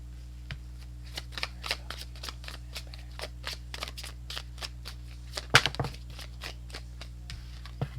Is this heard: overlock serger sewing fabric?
no